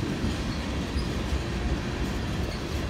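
A lone SD70ACe diesel locomotive hauls a full-length oil train, a steady, loud rumble of rolling freight cars that holds throughout with no break.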